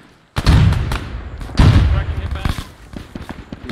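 Grenade blasts in the video game Arma 3, Vietnam War setting: two loud, close booms with rumbling tails, followed by lighter crackling bursts.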